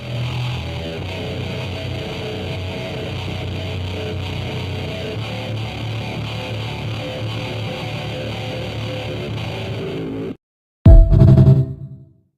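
Clash Royale game audio resampled into an electric guitar sound drenched in reverb, a dense, steady sustained wash lasting about ten seconds before a short pause and a loud low burst at the end, with no voices.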